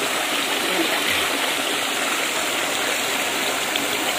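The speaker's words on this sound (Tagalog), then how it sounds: "Ayan, ang batis." A rocky stream in Taiwan rushes over stones, a steady, loud, broadband wash of flowing water with no pauses and no voices.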